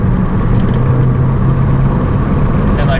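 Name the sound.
Saab 9.5 engine pulling under acceleration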